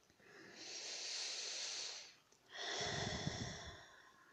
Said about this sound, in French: Inspire, expire au niveau du ventre